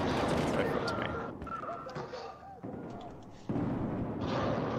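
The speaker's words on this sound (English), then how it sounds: "Just blindly firing down that corridor" Gunfire from a blind spray down a corridor in Battlefield 4, dense loud bursts of shots and booms with brief lulls between, mixed with faint voices.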